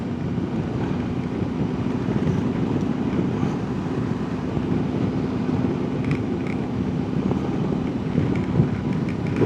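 A Voge DS625X motorcycle rides along steadily, its engine drone mixed with heavy wind rush over the microphone. The sound stays constant and loud throughout, with no voices.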